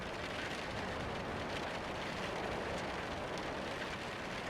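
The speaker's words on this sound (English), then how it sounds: "drifting in and out between the sound of the raindrops." Steady rain patters softly and evenly throughout, a faint, continuous hiss of drops falling on surfaces with no voices over it.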